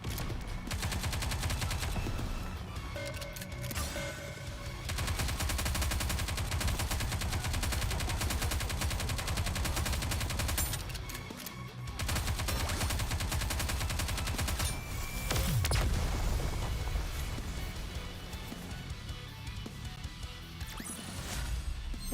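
Continuous automatic gunfire from a NIKKE Goddess of Victory battle, a dense, loud rattle of rapid shots with crashing impacts, pausing briefly around the middle before resuming at full intensity.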